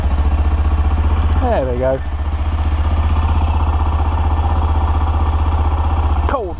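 An Aprilia Pegaso motorcycle engine idles after a cold start on choke, with a loud, steady thumping putter throughout. Someone speaks briefly over it.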